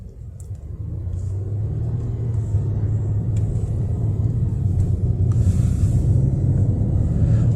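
A Volvo S90 drives through snow on a road in Dallas, Texas, its engine giving a steady low rumble that builds slightly as the car accelerates, heard close from inside with no talking.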